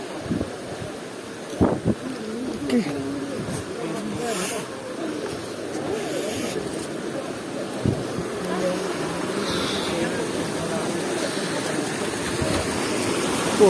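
Flowing stream water being waded through on foot, a continuous broadband rush and gurgle with wind buffeting the microphone, a few splashy knocks, while people talk over it.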